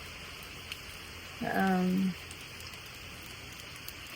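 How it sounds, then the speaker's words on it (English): Heavy rain pours at night during Hurricane Helene as a constant, even hiss throughout. A single spoken word briefly cuts in. "The hurricane is here, but all we're getting right now is a whole bunch of rain"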